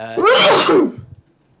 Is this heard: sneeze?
yes